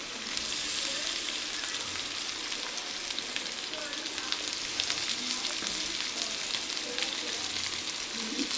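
Smashed half-boiled potatoes fry in a pan for a hotel-style aloo curry, giving a steady, dense sizzle and crackle that runs unbroken throughout, close and moderately loud.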